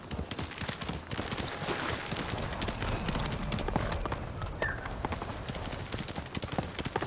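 Steady clip-clop of horse hooves trotting in the video game Ghost of Tsushima, at a quick, even rhythm, fairly loud and continuous, with no talking over it.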